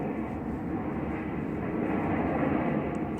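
A jet aircraft flying overhead makes a steady, loud, broad roar that fills the whole stretch without fading, with no voices.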